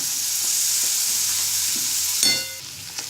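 Coconut paste sizzles in a hot pan for a mixed vegetable bhaji, a steady, loud, hissing fry with a sharp clatter of stirring partway through, close up.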